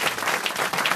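Studio audience applauding on a French radio comedy panel show, a dense steady burst of clapping that fills the whole moment, close and loud with no talk over it.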